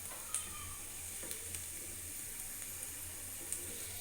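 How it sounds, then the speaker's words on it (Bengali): Onion fries gently in a wok, giving a faint, steady sizzle with a few soft clicks and stirring taps, and no voices. "কড়াইতে অলরেডি আমার পেঁয়াজটা আমি হালকা করে ভেজে নিচ্ছি"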